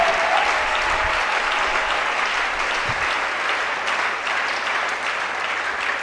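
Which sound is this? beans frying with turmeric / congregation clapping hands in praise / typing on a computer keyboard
congregation clapping hands in praise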